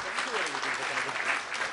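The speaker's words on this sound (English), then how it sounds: "let's give these guys a round of applause" Audience applause at an Italian innovation day event, a dense steady clapping wash lasting the whole moment with some voices mixed in beneath it.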